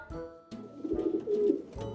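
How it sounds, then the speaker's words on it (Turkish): A pigeon coos in a soft, low, rolling burst, close and clear with no talk over it. "Güvercin işte burada."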